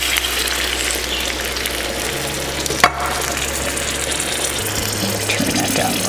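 Water pours in a steady, loud gush into a pot of cut potatoes and onion for soup, a continuous close splashing rush with one brief knock partway through.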